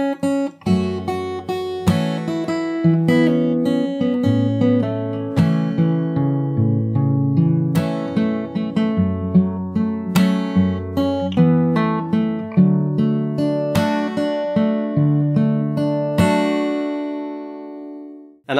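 A fingerstyle acoustic guitar plays a chorus, with steady plucked bass notes under picked melody and chords, close and unaccompanied for nearly twenty seconds.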